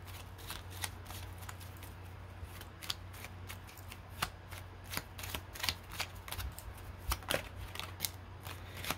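Tarot cards are shuffled in a quiet room: repeated crisp riffling snaps and slides in uneven bursts, close and fairly soft, with no talking over them.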